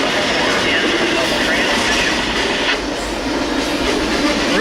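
A fast freight train thunders past close by over a road crossing, with a loud sustained roar, rattling wagons and clattering wheels and no break in the noise.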